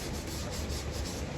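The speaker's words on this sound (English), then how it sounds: "We just are wrapping up sanding the little rust spots on the top." Steady close rasp of sandpaper rubbing rust spots on the top of an MG car, a continuous gritty scrubbing with slight back-and-forth pulses and no talk.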